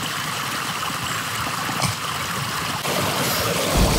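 Continuous broadband rush of a flowing stream, steady and fairly loud throughout, with a slight surge near the end and no voices.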